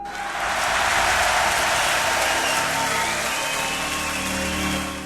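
A video game crowd claps and cheers in a dense, continuous roar of applause that holds steady for several seconds before easing slightly at the end.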